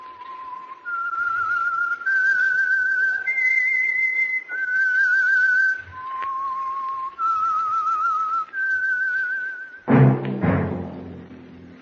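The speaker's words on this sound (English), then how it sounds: "That whistle." Someone whistles a slow, wavering tune in a 1947 radio drama, one sustained note after another, clear and close, ending with a sudden thump.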